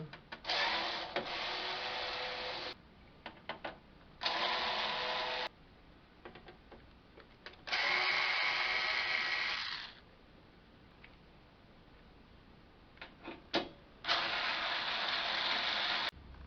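Screws being removed from a JVC L-A31 turntable during a speed-problem repair: several bursts of mechanical whirring lasting a couple of seconds each, separated by quieter gaps with small clicks and handling noise.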